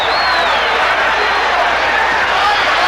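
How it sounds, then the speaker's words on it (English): A dense, loud crowd roars and cheers without a break at the Alexis Arguello vs Aaron Pryor boxing fight, a broadband wash with a commentator talking over it. "Crowd already starting to cheer"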